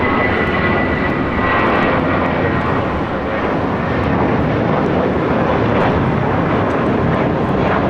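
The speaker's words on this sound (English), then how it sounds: "Spirit Airlines 462 taking off to New Orleans on an A320." Spirit Airlines Airbus A320 taking off from LAX for New Orleans, heard as a loud, steady jet engine roar throughout, with a brief spoken phrase near the start.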